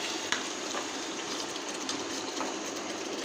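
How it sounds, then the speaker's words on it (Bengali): Cooked beef tripe reheats in a pan with a steady, even sizzle and frying hiss that runs throughout, broken only by a few faint clicks. "বট রান্না করছি, সেটা গরম করে দিব।"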